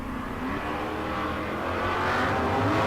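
Drag race cars, a Monte Carlo and a Nova, launching at a bracket race, a steady loud engine roar that builds slightly toward the end with no voices.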